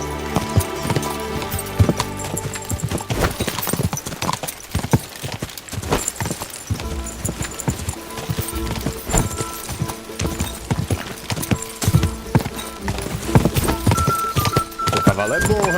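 A horse gallops in Kingdom Come: Deliverance 2, with a rapid drumming of hooves and occasional whinnies mixed into busy game music and effects, while voices shout over the action.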